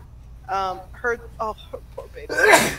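A single sharp sneeze bursts out at the end, right after a few words of speech.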